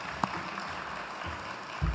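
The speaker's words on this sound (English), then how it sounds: "Can we have a round of applause for our public safety?" Faint, distant applause from a town hall meeting audience honoring public safety officials, a soft steady patter with a brief thump near the start.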